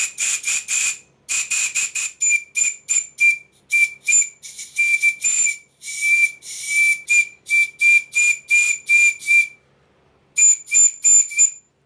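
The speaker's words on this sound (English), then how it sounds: "the sound of this whistle reminds me of the sound that I got from the flute" Whistle on a Stuart model steam plant, sounding a long series of short, sharp, high-pitched toots in an uneven rhythm, close and loud, with a brief pause near the end before a final few blasts.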